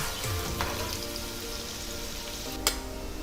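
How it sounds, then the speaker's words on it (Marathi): Half a finely chopped onion sizzles in well-heated oil, a soft, steady, rain-like crackle throughout with a faint sharp tick near the end. "यात मी अर्धा कांदा घातला बारीक चिरून. हा चांगला परतून घ्यायचा आहे मऊ होईपर्यंत."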